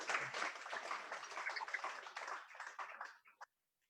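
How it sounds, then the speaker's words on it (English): Audience applause for the chair at an African Development Bank swearing-in ceremony, a crowd of hands clapping that thins and fades over a few seconds before a final lone clap and silence. "May you please give one more round of applause to Madam Chair."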